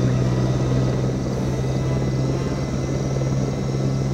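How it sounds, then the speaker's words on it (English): A helicopter in the video game Jurassic Park Operation Genesis gives a steady, even rotor-and-engine drone with a low hum running underneath, unbroken and constant in level, with no voices. "Here I am flying the helicopter"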